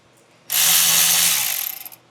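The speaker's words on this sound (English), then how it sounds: "We're going to tighten up our filter clamp using an 11mm socket." A ratchet with an 11mm socket tightens the filter clamp of an aFe Momentum GT cold air intake on a second-generation Toyota Tundra. It makes one quick, close, loud whirring burst that tapers into a few final clicks.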